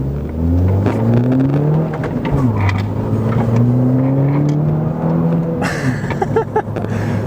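A sporty manual car accelerates hard, engine pitch climbing through the revs, dropping at a shift, then climbing again, loud and close from inside the cabin.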